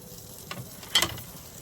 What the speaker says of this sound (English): I'm gonna put my buns down here, and I'm gonna toast them just a little bit.